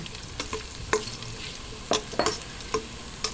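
Garlic sautés in a pan for chicken arroz caldo, a steady sizzle broken by several sharp scraping stirs from a utensil, close and without talking.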